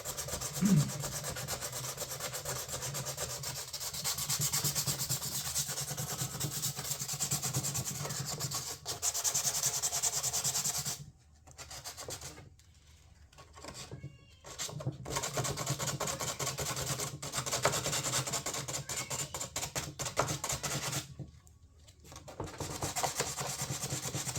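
Cracked fiberglass car door panel being roughed up by hand with sandpaper: a steady, close, continuous abrasive rubbing that runs nearly the whole time, broken by a few short pauses, with no talking.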